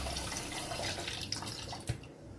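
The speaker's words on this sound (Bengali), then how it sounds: "এবার আমি একটু জল দিচ্ছি" Water poured into a pan for sugar syrup, a steady close splashing trickle with a few drips and small clinks, no voices.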